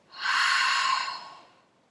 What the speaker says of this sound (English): Exhale through the back of the throat.